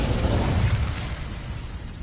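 A fiery whoosh from the Incendio spell in Hogwarts Legacy erupts loudly with a low rumbling roar that fades gradually into a softer crackling rush over two seconds.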